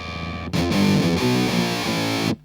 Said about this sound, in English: Almost sounds like a sort of bit crusher.